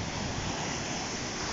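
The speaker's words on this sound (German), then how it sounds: "Wellen sind verdammt hoch, teilweise über einen Meter" Ocean waves more than a meter high breaking on the Black Sea shore on a sunny early-summer day, a steady, loud, wide roar of surf with wind buffeting the microphone throughout.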